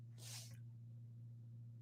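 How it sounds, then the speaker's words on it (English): A single short sneeze bursts out over a steady low electrical hum, then only the hum remains. "I gotta sneeze."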